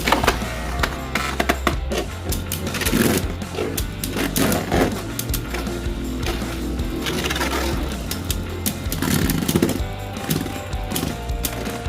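Beyblade spinning tops battle in a stadium with a loud, continuous whirring and rattling grind, broken by rapid clacking collisions throughout.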